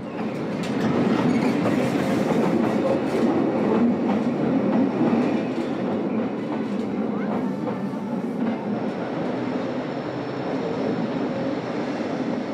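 A Bernina Express train rumbles steadily along the track from a viaduct into a rock tunnel, with a constant roar and faint rhythmic clatter, fairly close, gradually easing slightly.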